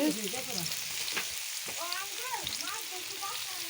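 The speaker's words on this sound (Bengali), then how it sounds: "বোয়াল মাছে ডিম ভুনা করবো তো পেঁয়াজটা দিয়ে এখন পেঁয়াজটা ভাজা হয়ে গেছে" Onions fry in a pan for boal fish roe bhuna, a soft, steady sizzle with occasional stirring, while someone talks over it.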